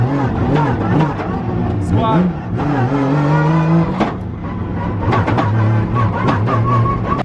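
A Nissan S15 drives with its engine revving, rising and falling in pitch close by, while people talk over the engine noise.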